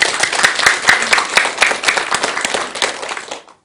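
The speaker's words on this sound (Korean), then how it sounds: "박수 한번 드리세요." A room of people at a Buddhist monk's dharma talk breaks into a burst of dense, close clapping that holds steady for a few seconds, then stops abruptly.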